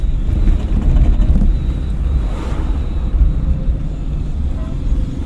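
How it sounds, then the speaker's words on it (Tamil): An oncoming vehicle rushes past a driving-school car on the road, a broad low rumble and whoosh of wind over steady cabin and engine noise. "ஏன்னா ஆப்போசிட் வண்டி வருது"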